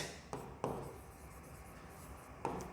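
A pen scratches across paper during a maths lesson, three short close strokes standing out against quiet room hiss.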